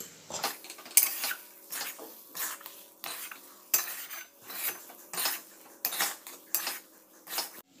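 Moong dal halwa with ghee, sugar, cardamom and dry fruit is stirred in a pan, a close series of rhythmic metal spoon scrapes and clinks, about one stroke every half second, with no talking.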